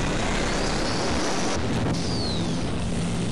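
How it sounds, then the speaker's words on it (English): The Egon beam weapon in Half-Life 1 fires with a deafening, continuous roar like a jet taking off, a dense rushing blast that holds steady for several seconds, close and loud with no voices over it. "It makes so much sense knowing it's a jet taking off, because it really does sound cool."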